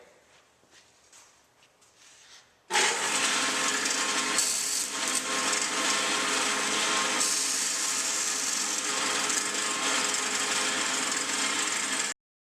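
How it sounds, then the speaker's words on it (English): A lathe turning a wooden part in a workshop starts up after quiet, then runs loud and steady with a dense whirring and cutting texture for about nine seconds before stopping abruptly. "This is a lathe. It's used for turning round parts."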